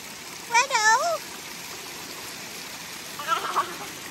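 Water at Jerry Johnson hot springs near Lolo, Montana, flows in a constant soft rushing hiss. Two brief voices call out over it, one near the start and one near the end.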